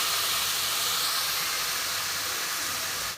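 Water hits a hot pan of bitter gourd and sizzles with a loud, steady hiss that holds evenly throughout and cuts off right at the end.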